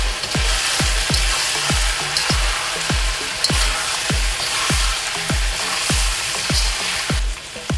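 Onion and garlic sauté for adobo in a hot pan, a continuous sizzle and crackle broken by a steady, regular run of stirring scrapes, close and loud with no talking.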